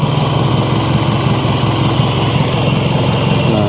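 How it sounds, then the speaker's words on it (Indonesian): A 2005 Toyota Vios G facelift engine idles smoothly and steadily, a close, continuous hum with a faint high whine and no talk over it. "Dan ini ya suara mesinnya ya, halus ya."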